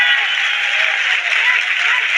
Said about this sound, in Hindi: इसीलिए ताली मारते जाइए।